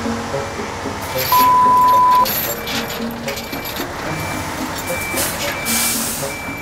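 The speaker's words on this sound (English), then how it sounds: "The lorry needs to fix its dangerous load, and this driver has an interesting way of doing it." Skip lorry reversing while unloading stacked skips on a motorway: one steady electronic beep cuts through a heavy truck engine rumble and road noise, close and loud.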